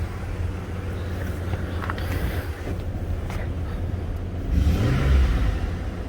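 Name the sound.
2006 Dodge Ram 1500 3.7 V6 engine revving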